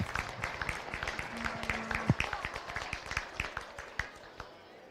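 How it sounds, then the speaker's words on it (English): Scattered audience clapping at a county beef cattle show, a loose, uneven patter of hands in a large open space, with a brief voice or tone cutting through midway. "Let's give them all another big round of applause"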